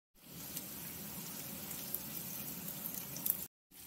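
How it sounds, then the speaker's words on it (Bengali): Diced potatoes with salt, ginger, garlic, green chilli and chopped onion fry in hot oil for a spicy egg pasta, giving a steady, even sizzle that cuts off abruptly near the end. "এটা ভাজা হচ্ছে"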